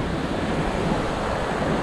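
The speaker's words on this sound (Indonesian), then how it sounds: "Nah, ini dia kondisi aliran sungai." River water flowing along a forest stream near a footpath, showing recent flood debris, in Plunyon Kalikuning; a steady, broad rushing wash fills the whole moment without pause.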